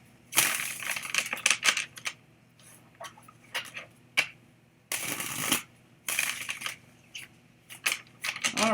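A deck of tarot cards being shuffled by hand, bursts of riffling and flicking that come in uneven clusters with short quiet gaps between them, close up with no speech.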